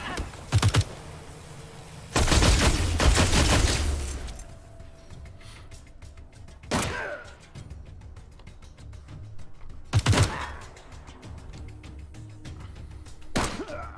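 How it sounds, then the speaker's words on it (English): Sporadic gunfire in the Wasteland 3 video game: a few sharp shots and one longer loud burst, spaced apart with quieter game ambience between. "you're shooting him, but you don't have a shooting animation"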